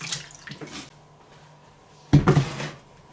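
Lobster tails rinsed under running water, a splashing tap flow with brief bursts at the start and a louder, close rush of water near the end, no talking.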